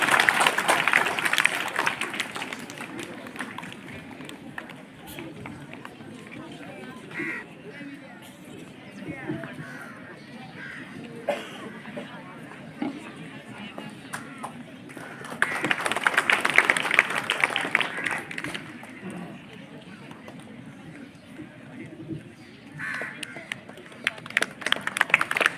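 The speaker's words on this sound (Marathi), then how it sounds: "सर्वांनी जोरदार टाळ्या वाजवायचे आहे." An audience at an August 15 school function claps in two loud bursts, one at the start and another midway, with a murmuring crowd and scattered claps in between.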